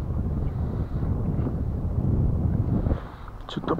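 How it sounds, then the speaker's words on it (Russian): Strong wind gusts buffet the microphone outdoors during a fishing outing, a steady low rumble with surging loudness throughout, and a person speaks briefly toward the end. "Что-то, блин, совсем ветер."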